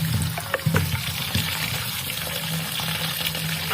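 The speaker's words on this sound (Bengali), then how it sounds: "আমি এবার এগুলোকে জল দিয়ে ভালো করে ধোবো" Chopped coriander leaves being washed and squeezed by hand in water, a steady splashing and running-water wash with small sloshes near the start and no talking.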